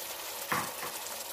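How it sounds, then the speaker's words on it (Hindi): A steady sizzle of tomato, chili, ginger and garlic paste frying in a pan, with a brief louder burst of hissing as the paste hits the hot oil. "और इसको ये डाल के हम इसको भूनेंगे।"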